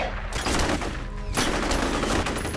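Rapid automatic gunfire bursts from FEAR, a first-person shooter, loud and close, with brief gaps between sustained volleys.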